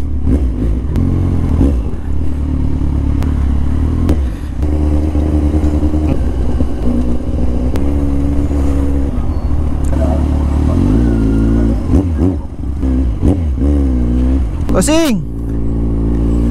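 A Yamaha NMAX scooter engine revs loudly and steadily close by, rising and falling, with people talking over it and a brief whine near the end.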